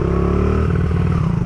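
Motorcycle engine held at a steady throttle during stunt practice: a continuous loud, even drone close by, with a slight shift in pitch partway through and no talk.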